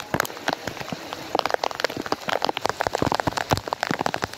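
Rain falling on a rooftop during a monsoon downpour, with dense, steady drops and sharper close splashes tapping irregularly throughout; no voices.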